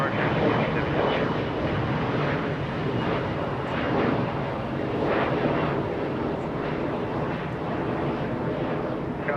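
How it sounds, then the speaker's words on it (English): A SkyWest Embraer E175 airliner departs Los Angeles International Airport with a steady, loud jet engine roar that holds for the whole span, and a voice talks over it in places. "6277 heading to Tucson, Arizona this fine afternoon. A little Embraer E175."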